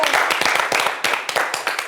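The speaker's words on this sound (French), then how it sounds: "On applaudit pour les éléphants, non?" A small group claps in loose, irregular bursts of individual hand claps, close and fairly distinct, cheering on the elephants for a couple of seconds.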